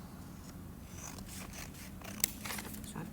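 Scissors snip through folded paper in a quiet room with a low background hum, making soft crisp cuts followed by one sharp click.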